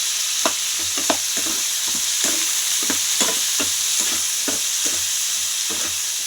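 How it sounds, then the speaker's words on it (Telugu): Sliced tomato and a large onion fry in hot tempering oil, a loud continuous sizzle punctuated by regular ladle stirs and scrapes against the pan; no voices. "ఒక పెద్ద సైజు ఉల్లిపాయ ఉల్లిగడ్డ అన్నీ వేసి తాలింపులో చక్కగా మగనివ్వాలండి"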